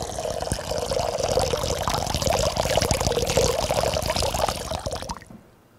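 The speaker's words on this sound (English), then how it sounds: "And as you hear the waters pour" Baptismal water is poured into a font during a church service, a steady splashing stream running for about five seconds before stopping abruptly, heard alone without talk.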